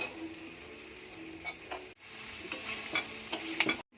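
Ridge gourd, potato, ginger and mung lentils stir-fry in a pan, a steady sizzle broken by a brief pause and then scattered sharp spoon scrapes and clinks close by, with no voices.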